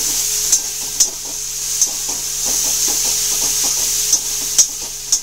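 Ginger and garlic paste fries in a pan, a soft steady sizzle broken by several sharp scrapes and taps of a spatula stirring, spaced irregularly and close.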